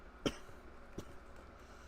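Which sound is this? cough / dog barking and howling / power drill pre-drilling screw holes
cough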